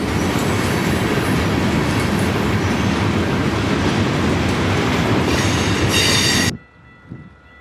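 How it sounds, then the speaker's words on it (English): A Florida East Coast freight port train rolls along a lead track in Miami toward Dodge Island, a loud, close, continuous rumble of wheels and cars with a brief squeal near the end before it cuts off. "here is an instance of the port lead in use today with the FEC port train heading on to Dodge Island"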